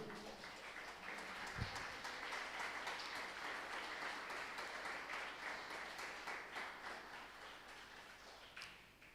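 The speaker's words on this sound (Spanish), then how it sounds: "Dele un fuerte aplauso al Señor" Sustained applause from a church congregation, steady clapping that carries on for several seconds with a few louder claps near the end.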